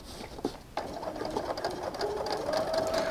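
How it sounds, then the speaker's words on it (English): A sewing machine top stitches fabric on a sewn tech charging station, starting with a clunk and settling into a steady, close, rapid whirring hum that grows slightly louder. "I like to always top stitch the area that I was working in where the opening is"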